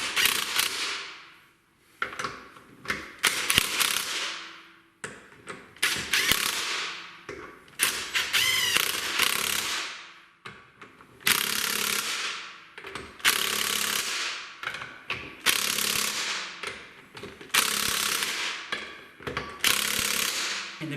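Impact wrench tightening wheel lug nuts during a DIY brake job, in repeated loud, close bursts of rattling hammering of a few seconds each, separated by short pauses, with no talking.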